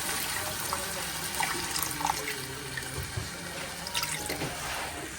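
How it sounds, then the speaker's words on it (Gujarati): Water pours steadily into a pan of sev tomato curry made with homemade sev and garlic chutney, a continuous close splashing and trickling with no speech over it. "અને હવે થોડું પાણી એડ કરી દઈશ"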